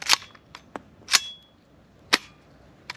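A polymer P mag is seated into a rifle fitted with a Rare Breed FRT-15 trigger, making several sharp, close metallic clicks and clacks spaced irregularly over a few seconds, with quiet between them.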